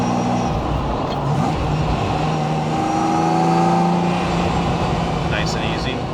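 A 1988 Ferrari Testarossa's engine drops through the gears on the road, a loud interior drone whose pitch falls and rises with each downshift, someone speaking over it.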